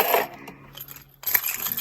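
A bunch of caravan keys dropped into a storage box, giving a quick metallic clatter and jingle at the start and another brief rattle about a second later, close and fairly loud.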